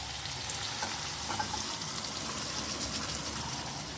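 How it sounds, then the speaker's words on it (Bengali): Boiled dal poured into a pan of frying spices and vegetables for homestyle veg dal, giving a continuous close sizzle with a wet liquid gush running steadily throughout. "এখন আমার সিদ্ধ করে রাখা ডালটা ঢেলে দেব।"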